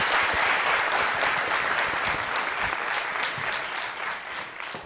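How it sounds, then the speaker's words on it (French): An audience at a Guinean school ceremony for clean schools breaks into dense, loud applause that holds steady and tapers slightly toward the end. "que je vous demande d'applaudir très fort."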